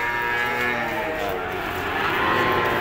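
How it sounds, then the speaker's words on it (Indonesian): Peranakan Ongole cattle at a cattle market in Jogja, a steady mix of mooing and lowing from several animals close by over a continuous crowd murmur, with people talking in the background. "Deretan sapi peranakan pengole ya"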